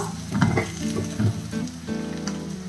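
Cut eggplant sautés in an oiled pan with shallots, sizzling loudly as it is stirred, with scraping and clattering from the stirring.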